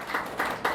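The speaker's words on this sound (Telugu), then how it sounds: "కొట్టో గట్టిగా చప్పట్లో" Three short, loud bursts of clapping from a sermon audience, evenly spaced, with a crowded, roomy sound.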